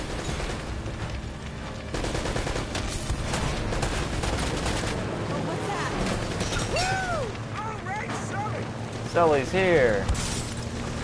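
Gunfire and explosions in the video game Uncharted: Drake's Fortune, including a rocket launcher, dense bursts of shots and blasts running continuously under excited player commentary, with louder impacts near the end.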